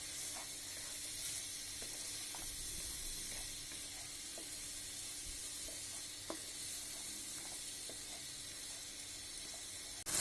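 Spices with garlic paste and ground coriander stirred in a hot pan, a soft continuous sizzle and hiss with occasional faint scraping clicks of the spoon, fairly quiet and without talk.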